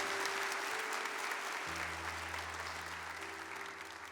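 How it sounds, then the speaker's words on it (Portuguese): A church congregation at a Catholic service applauds together, a steady spread of clapping heard at a fair distance over a low sustained organ or keyboard tone. "Aplauda com alegria a palavra de Deus."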